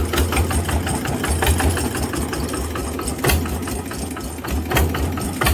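A farm tractor engine idles steadily before paddy field work, its low, rhythmic chugging and faint knocking running unbroken and close up, with a couple of brief clanks on top.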